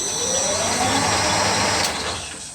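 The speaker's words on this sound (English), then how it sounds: "So I can start the lathe and show you." A small metal lathe running in gear while machining a part for a Stuart Turner 10H model engine gives a steady, close mechanical whir with a low motor drone and a faint rising tone, continuous throughout.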